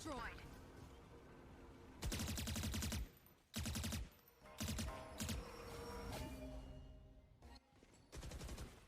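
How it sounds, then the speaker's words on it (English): Automatic gunfire sprays in bursts in the Valorant video game, several loud, tight rattling volleys broken by short pauses, with quieter game sounds in between and no speech. "Spraying in, seeming all too aware of Sick's positioning at this point"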